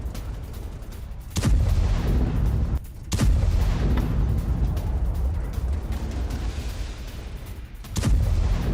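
Explosions destroy military posts in hilly terrain: three heavy, distant booms, each followed by a long rumbling roll that slowly decays, with no voices.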